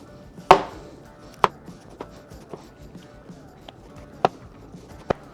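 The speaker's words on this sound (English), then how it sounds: "I'm just going to don my rubber gloves so I can handle it and then just cut it into slices" A knife cutting cooked celeriac into slices about 5mm thick, heard as several sharp, separate chops on a board at an irregular pace, close and clear over a quiet background.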